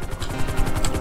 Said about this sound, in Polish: bo nam dymi ten helikopter, to jak cholera